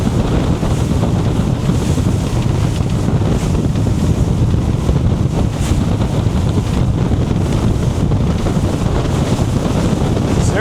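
Sea Ray 270 with a single outboard running at speed through choppy Sarasota Bay, a constant loud roar of engine, wind buffeting and rushing water with no letup.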